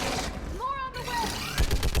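Bursts of gunfire in the Mass Effect 3 Legendary Edition game, played on Xbox Series X, loud and dense over shouting, with a rapid run of shots near the end.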